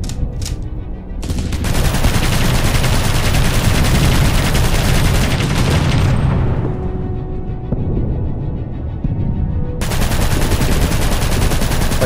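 Sustained automatic gunfire aimed at a turret in the game Aviators, loud and continuous for several seconds, stopping briefly for a reload with a few mechanical clicks, then resuming in a steady stream.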